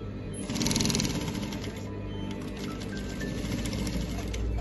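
A sewing machine runs steadily while stitching the seam of a senator placket, a continuous close, loud mechanical whirr with a rapid needle rhythm throughout.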